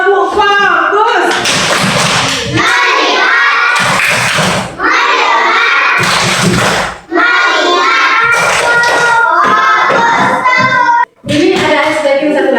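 Classroom children perform a 'tepuk fokus' clapping routine, their rhythmic hand claps mixed with loud group chanting and shouting in repeated bursts, broken by a few brief pauses.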